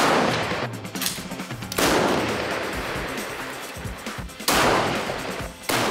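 Sniper rifles fire during military sniper training, with three loud, sharp reports spaced a couple of seconds apart, each followed by a long rolling echo across the range.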